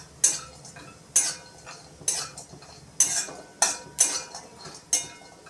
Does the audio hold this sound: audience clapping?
no